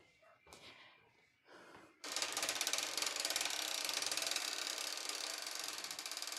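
Quilt being rolled on a quilting frame, a rapid ratcheting clatter starting after a couple of seconds of breathy near-silence, then continuing loud and evenly ticking to the end.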